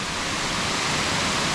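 Rutledge Falls in Tullahoma, Tennessee, a waterfall with water pouring around rocks, gives a steady, loud, dense rush of falling water, continuous and close, with no voices.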